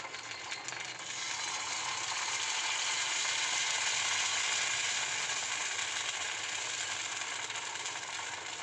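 Paniyaram batter cooking in a kuzhi paniyaram pan, a steady soft hiss and crackle of frying that stays even and continuous throughout, quiet and close.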